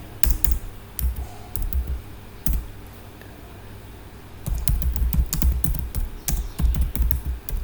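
Computer keyboard typing while working in AutoCAD, close and clicky, with scattered keystrokes early, a pause, then a denser run of taps.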